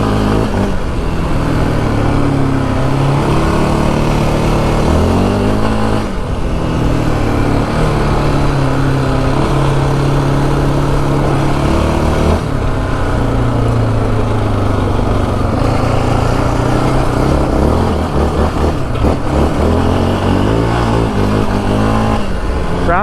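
A Yamaha Raptor 700 ATV ridden hard across the Arizona desert, its single-cylinder engine roaring close and loud without pause, rising and falling through repeated revs and gear changes over the wind.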